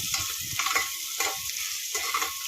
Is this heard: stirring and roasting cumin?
yes